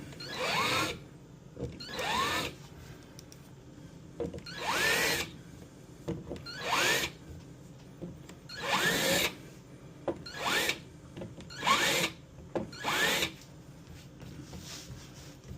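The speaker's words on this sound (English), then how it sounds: "now we're going to drill our pilot holes for our number 6 screw post" An electric drill whirs in repeated short bursts, about eight or nine, boring pilot holes for number 6 screw posts into wood for a pinball kit, with brief pauses between each hole, close and fairly loud.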